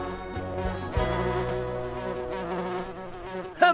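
Buzzing of a bee flying in the Nature Cat video game, a steady insect drone alongside game music, with a brief brighter chime near the end.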